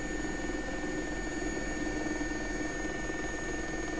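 An SA-342 helicopter slows to land in the X-Plane 11 flight simulator. Its rotor and engine hum stays steady and continuous, with no talk.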